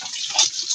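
Laundry being rinsed by hand in water, with steady sloshing and splashing that swells briefly near the middle; close by and moderately loud, with no talking.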